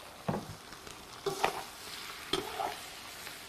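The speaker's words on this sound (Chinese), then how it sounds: "先把蒜苗头头放进来先炒一下" Garlic sprout heads are stir-fried in a wok with ginger slices, dried chilies, Sichuan peppercorns and rice tofu. A spatula scrapes and clatters in a few sharp bursts over a soft, steady sizzle.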